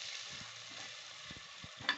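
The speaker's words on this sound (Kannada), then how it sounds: "ಈರುಳ್ಳಿ ಫ್ರೈ ಆಗ್ತಾ ಇದೆ" Onions sizzle and fry in a pan, a steady close crackling hiss with a few soft stirring knocks.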